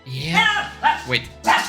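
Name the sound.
dogs barking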